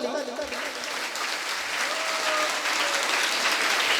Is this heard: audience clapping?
yes